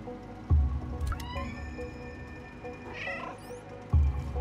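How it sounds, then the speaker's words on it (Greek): A cat meows several times in the video game Stray, giving clear rising and falling calls over a low ambient hum with two soft thumps. "Πρέπει να του νιαουρίσω."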